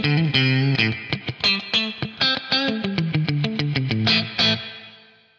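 Electric guitar played through a BOSS RV-500 on a bright, crisp reverb setting: a quick series of picked notes and chords ringing with a short shimmering tail that fades at the end, no speech.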